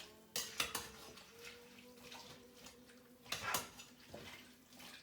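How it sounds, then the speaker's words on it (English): A spoon scrapes and clinks against a pot of salted food while stirring, a few sharp metallic knocks in two short bursts, close and fairly quiet. "So I like to give it a nice little stir."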